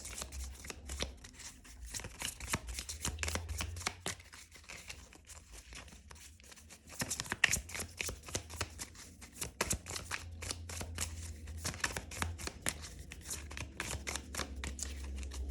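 Tarot cards are shuffled by hand in a long run of quick, close, crisp riffling and flicking taps, steady and fairly soft, with no one talking.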